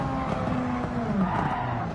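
Formula 1 race car in Gran Turismo 7 skidding under the handbrake, tires squealing over a loud, continuous engine drone for a couple of seconds.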